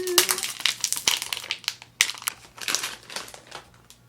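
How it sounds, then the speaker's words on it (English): Crinkly cellophane wrapping is peeled and crumpled off a fragrance box in quick, sharp bursts, close and clear, with no talking. "Remove the cellophane."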